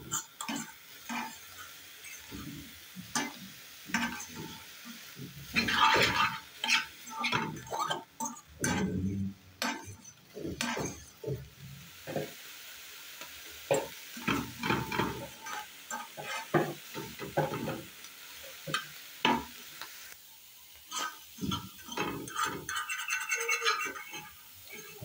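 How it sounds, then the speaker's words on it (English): Small salted omena fish stirred in a dry pan, producing a continuous scraping and rustling with faint sizzling, steady and close throughout. "I'm going to add my salt and then continue stirring it"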